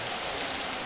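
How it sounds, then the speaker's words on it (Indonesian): Steady rain hiss during an outdoor visit by the NTB governor to a village head's house in Labuan, Lombok, a continuous broadband patter with no talk in this moment. "Nah ini berkah nih, Reng, hujan."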